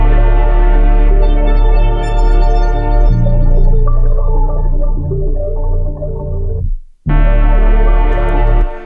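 Large atmospheric sample with chorus-widened bass and layered textures, a thick sustained chord pad that shifts midway, cuts to a sudden stop and comes back in.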